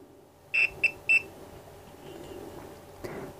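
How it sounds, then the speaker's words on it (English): Three short electronic beeps from a digital multimeter on continuity setting while probing a laptop circuit board, clear high-pitched tones in quick succession over a quiet room background. "measurements or continuity with the beep."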